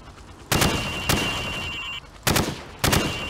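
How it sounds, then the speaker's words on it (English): Hip-fire from a gun in Call of Duty Modern Warfare: four loud, close bursts of shots, some lasting about half a second, with short quiet gaps between them. "I want to see you fire from the hip."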